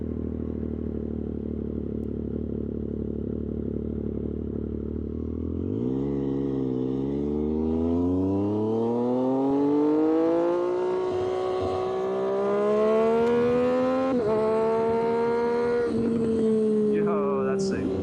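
A Triumph 765RS with an aftermarket exhaust and tune idles steadily, then revs up in a long, rising howl with a brief shift break, close and loud throughout.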